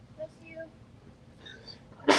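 A single sharp sneeze bursts out near the end, loud and close, after a quiet stretch with faint background tones.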